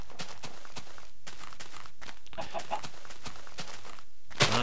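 A Minecraft chicken clucks briefly among repeated footstep-like thumps in the video game, with a sharp sound at the very end and no one talking.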